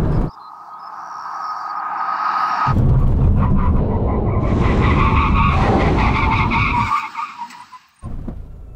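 A Nissan Nismo car brakes hard at a braking point, tires skidding and squealing loudly for several seconds, with engine noise before and after the screech.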